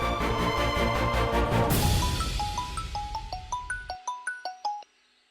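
A phone ringtone plays a loud melodic tone that fades, then a run of short bright chiming beeps in a rising pattern, cut off abruptly.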